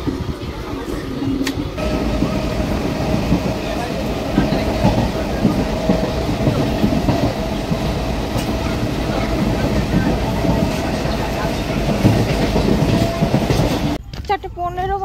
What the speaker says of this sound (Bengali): ট্রেন ছেড়ে দিল রানাঘাট থেকে